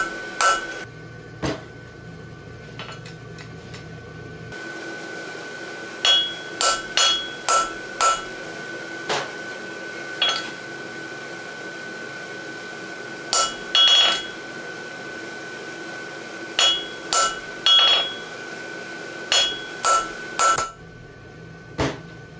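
Hammer blows on hot steel as a hind horseshoe is forged from 3/8 x 1 bar stock with masselot clips, striking in irregular bursts of sharp ringing clanks over a steady low hum, with quiet gaps between groups of blows.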